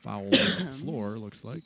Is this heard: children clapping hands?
no